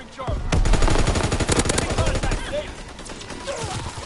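Rapid automatic gunfire from a PS4 video game, a loud close burst of repeated shots that rattles for about two seconds, then thinner scattered fire, with faint game voices in the background.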